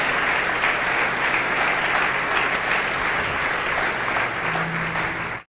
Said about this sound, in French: On acclame pour Jésus.